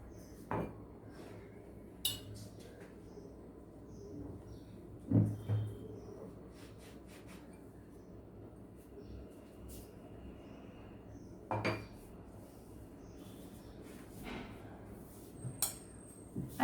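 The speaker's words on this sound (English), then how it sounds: "you can take any bowl like this to cut circles out of it" A bowl pressed down to cut circles out of bread slices on a plate, heard as scattered clinks and knocks of the bowl on the plate, a few sharp taps spaced several seconds apart over a quiet kitchen background.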